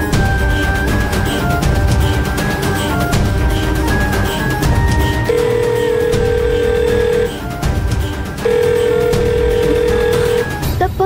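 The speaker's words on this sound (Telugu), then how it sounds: "ఫోన్ ఎత్తడం లేదేంటి?" An unanswered telephone call rings on and on in a Telugu TV drama scene, with steady electronic ring tones and repeating tonal beeps over a busy background for about eleven seconds, with no one speaking.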